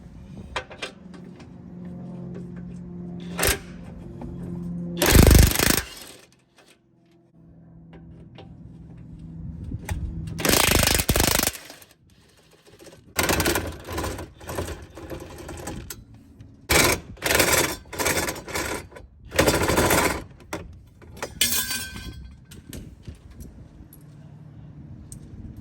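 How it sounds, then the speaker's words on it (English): A DeWalt 3/4-inch electric impact gun zipping bolts off the rear bumper of a 2018 Jeep JLU, several loud bursts of rapid hammering separated by quieter clanks and handling noise, close by. "the DeWalt electric impact gun, the big boy, the 3/4. Let's go ahead and get those off"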